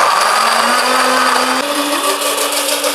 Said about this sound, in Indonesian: Oke, kita blender.